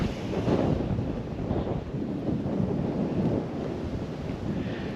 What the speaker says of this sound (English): Picking up a gale now.